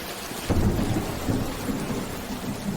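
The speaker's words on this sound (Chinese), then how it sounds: "这才过几天啊，就下这么大雨。" Heavy rain pours steadily, joined by a deep rumble of thunder that swells about half a second in and rolls on at moderate loudness throughout, with no voices.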